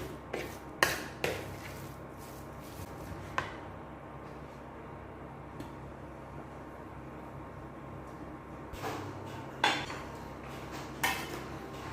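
Seasonings are mixed together in a bowl for a crab noodle soup, with a few sharp clinks of a utensil against the bowl in short clusters over a quiet background hiss and no talking.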